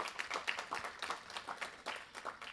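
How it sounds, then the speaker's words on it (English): A smaller audience at a panel event on equitable spending with Black media gives a soft round of applause, individual claps clearly audible in an uneven, fairly quiet patter. "again, another round of applause."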